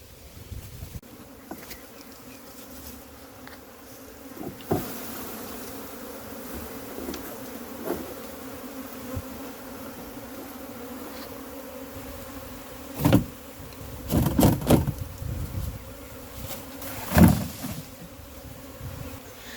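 A swarm of honey bees, just moved from a barrel into a hive box, buzzes in a steady dense drone close by, with a few louder swells as bees fly near.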